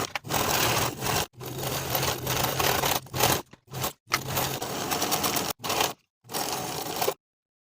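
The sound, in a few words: sewing machine stitching jacket seams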